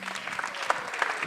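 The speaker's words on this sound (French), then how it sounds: "est-ce qu'on peut applaudir pour lui?" An audience applauds at a French-language talk show, a short burst of clapping heard close and fairly dense, with faint voices underneath.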